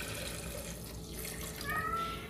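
400 ml of cognac poured as the base for a creamy chocolate liqueur, a steady close liquid stream running throughout, with no voices.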